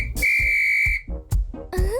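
A cartoon whistle blows in one long shrill steady blast lasting most of a second, followed by a couple of short thumping hits and a rising squeaky tone.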